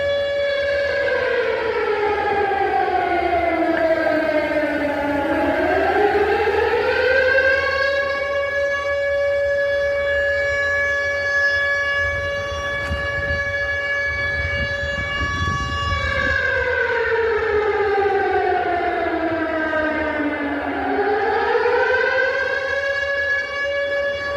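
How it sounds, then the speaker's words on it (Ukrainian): A civil defense air-raid siren wails outdoors in front of Odesa city hall, loud and sustained. Its tone sweeps down and back up in two long, slow cycles. "в місті Одеси оголошено повітряну тривогу"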